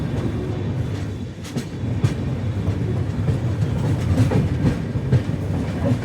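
The 13246 Capital Express rolls into Thakurganj station on platform 1, with a low rumble, rattling carriages and faint clicks of wheels over rail joints heard from inside the train.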